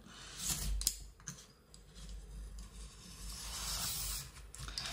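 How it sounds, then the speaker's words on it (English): Scissors or a blade cut through thick cardboard on a chopping board, giving irregular scraping and crunching rasps. The cutting is close and fairly quiet, with a few sharper snaps. "I'm just gonna cut it."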